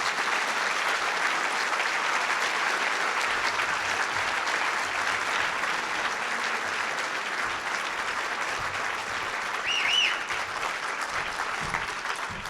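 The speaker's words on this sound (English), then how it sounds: "give a warm round of applause to Jerry Remy for his induction into the Massachusetts Broadcasters Hall of Fame." An audience at the Massachusetts Broadcasters Hall of Fame ceremony applauds Jerry Remy's induction, a sustained, even clapping from a crowd heard at a moderate distance, holding steady for the whole stretch.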